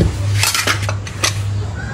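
A cooking pot clatters in a home kitchen where instant noodles are being made, with several sharp metallic clanks and rattles in quick succession over a steady low hum, close and fairly loud.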